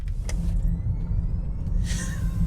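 A heavy Rivian electric truck, about 7,000 pounds, rolls roughly over speed bumps, giving a steady low rumble from the cabin with a few brief knocks and a rising whoosh near the end, with no talking.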